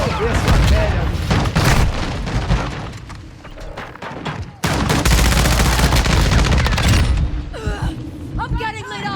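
Heavy gunfire in Call of Duty Modern Warfare II multiplayer, bursts and booms from an ISO 45 loadout filling the scene almost without pause, with a brief drop midway and shouted voices breaking through near the end.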